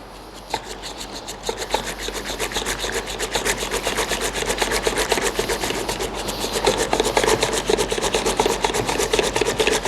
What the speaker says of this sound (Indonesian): Lalu kita kocok pakai mixer, hand mixer.